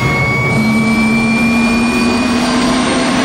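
A helicopter's turbine engine whines steadily as it spools up for takeoff on a windy day, a continuous close mechanical drone that climbs slowly in pitch, with no voices.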